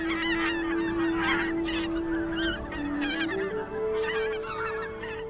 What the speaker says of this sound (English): Bean, greater white-fronted, greylag and Canada geese stop here to gain strength for their further journey.